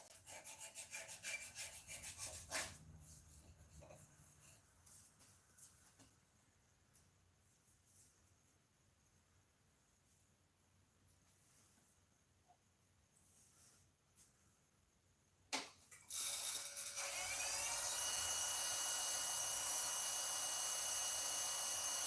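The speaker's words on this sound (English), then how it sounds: "Doing a little burnishing with the wood chips." Wood chips are pressed against a spinning piece of turned wood on a lathe to burnish it, giving a loud, steady rubbing hiss at the start and again at the end, with a quieter stretch between.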